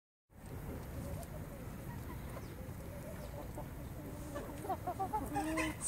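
Chickens clucking softly against a constant low background rumble, the clucks growing a little busier and more distinct toward the end.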